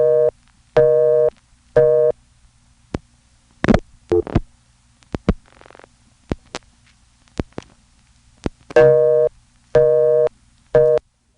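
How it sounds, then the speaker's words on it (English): Telephone exchange rotary switch from 1977 spinning after a number is dialed: repeated loud buzzing pulses and bursts of clicking and ratcheting, with short steady tone blocks at the start and end, no voices. "you hear that rotary switch spin around"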